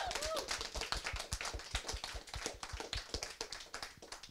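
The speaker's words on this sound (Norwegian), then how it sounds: "Ja, kanskje vi kan ta en applaus for begge innledere." A small audience at a Norwegian debate on oil versus climate claps steadily for a few seconds, with fairly quiet, loosely rhythmic individual hand claps sounding close.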